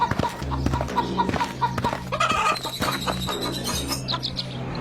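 Chickens cluck in a Hindi cartoon, with busy bursts of clucks and chirpy calls tumbling over one another at close range against a steady low background.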